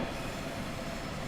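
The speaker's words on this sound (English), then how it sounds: "So I'm now going to start cutting the power and just allow the train to start coasting down in speed." A train coasting with power cut on the Semmeringbahn between Gloggnitz and Mürzzuschlag in Train Simulator 2016, giving a steady, continuous rolling rumble with no distinct accents, even and moderately loud throughout.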